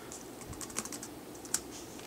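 Typing on a computer keyboard while setting up a Linux netbook with an SSD, several quiet, scattered key clicks with one sharper tap, no talk.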